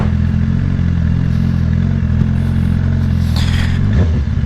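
A BMW S1000RR sport motorcycle engine running close by at a loud, steady idle with a deep, buzzing rumble, then a brief throttle blip and a clattering mechanical knock near the end.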